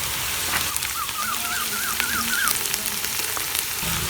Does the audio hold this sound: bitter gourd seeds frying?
yes